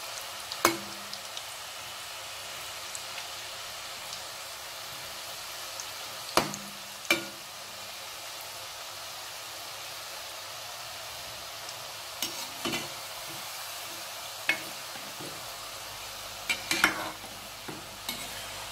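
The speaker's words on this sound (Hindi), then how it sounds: "मैंने इसको 4 से 5 मिनट ऑयल में फ्राई किया है" Methi namak pare deep frying in hot oil give a steady, even sizzle throughout, broken by occasional sharp clinks and scrapes of stirring.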